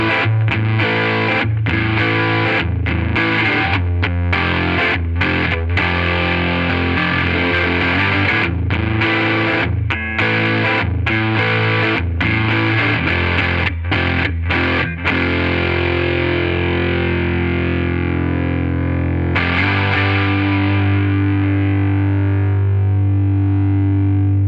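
An electric Telecaster-style guitar played with heavy distortion, loud and close, with rhythmic chugging chords and riffs that end in a long sustained ringing chord fading out.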